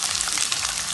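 Onions sizzle hard in hot oil in a pan, a bright, dense crackle that stays close and loud throughout.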